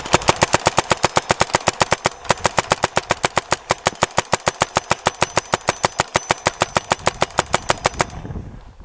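Azodin Kaos paintball marker firing a long, steady, rapid string of roughly forty-five sharp shots over about eight seconds, loud and close, then stopping abruptly.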